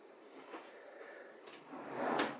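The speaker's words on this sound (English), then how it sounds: "checking the drawers" Dresser drawers in a Walt Disney World hotel room slide and knock as they are opened and checked, a few soft rustling bumps ending in a louder scrape close by, with no talking.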